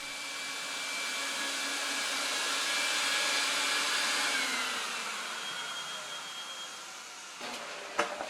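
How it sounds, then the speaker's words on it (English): A vacuum extracting urine and dirt from an Oriental rug gives a steady, loud rushing roar of suction that swells slightly, eases off, and ends with a few sharp clicks. "After the vacuum extract all the pee-pee, the urine, the dirt, whatever"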